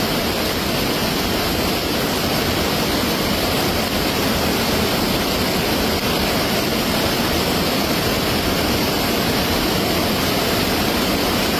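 Loud, steady roar of a rushing hillside flash flood during the monsoon fills the whole clip, a dense broadband wash with no pauses and no voices.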